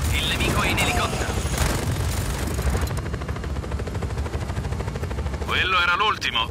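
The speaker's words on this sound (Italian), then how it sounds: "il nemico è in elicottero." Helicopter rotor drone and bursts of gunfire from an enemy attack in the video game Just Cause 4, loud and continuous throughout, with dense shooting and blasts layered over the chopper noise.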